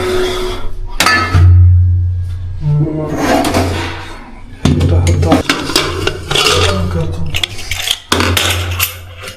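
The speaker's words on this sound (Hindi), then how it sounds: "अपने लिए प्लेट निकाल लूँ एक।" Dishes and cutlery clatter in a home kitchen as a plate is taken out from a stack, with several sharp clinks and knocks over a low steady hum, close by and moderately loud.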